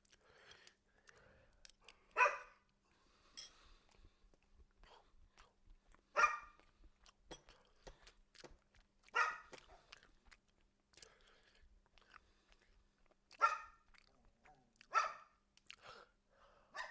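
A dog gives a handful of sharp, separate barks spaced a few seconds apart, close and loud against an otherwise quiet room with faint small clicks and rustles between them.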